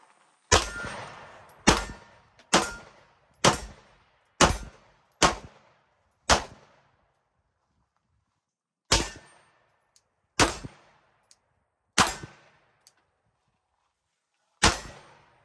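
A Glock pistol fires at steel targets on a range: eleven sharp, loud shots, each followed by a ringing metallic clang. Seven come in a quick, steady string, then four more spaced out, with silence between and no talk.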